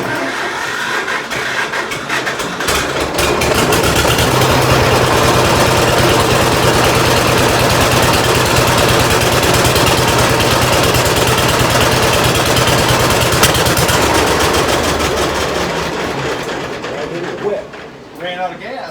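A John Deere 50 tractor engine runs steadily and loudly for most of the stretch, a continuous low rumble that fades near the end as the engine dies.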